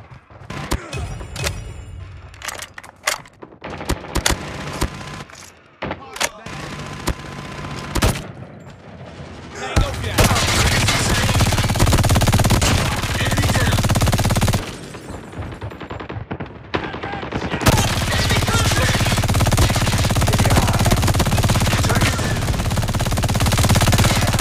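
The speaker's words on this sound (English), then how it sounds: "Sentry gun deployed." Automated sentry gun in a shooter video game firing in long sustained bursts of rapid gunfire, loud and dense, mixed with other battle sounds and mechanical clatter.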